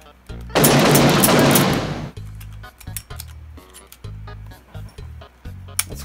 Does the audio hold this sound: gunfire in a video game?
yes